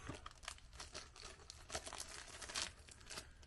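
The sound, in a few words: removing plastic bag packaging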